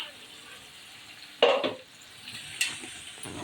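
An onion and gram flour mixture is sautéed in a pan, with two short scraping, stirring bursts rising over a faint, steady sizzle.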